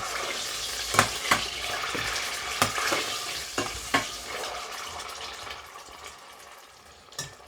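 Tomato cooks in a pan with seasoning for a peanut sauce, a steady sizzle broken by several distinct spoon knocks and stirring scrapes that fade toward the end.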